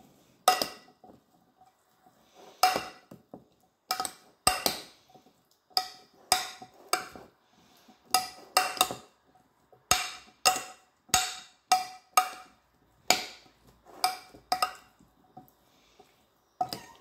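Utensils toss a gluten-free salad in a bowl, producing a steady series of sharp clicks and soft squishy knocks in an irregular rhythm with quiet gaps between them.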